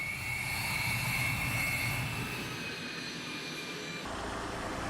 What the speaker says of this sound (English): taking a flight in that fighter jet was extremely cool